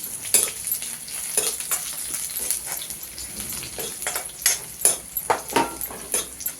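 Finely chopped ginger and garlic fry in hot oil with a soft continuous sizzle, broken by irregular stirring clatters of a utensil against the pan, closer and sharper near the end.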